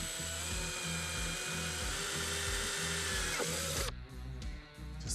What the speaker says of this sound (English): Drill our additional hole.